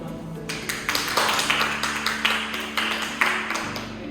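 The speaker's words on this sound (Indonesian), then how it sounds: "Bapak minta tepuk tangan dulu buat Bapak" Applause from a classroom audience, a dense run of hand claps lasting several seconds, moderately loud and fairly close, with faint voices underneath.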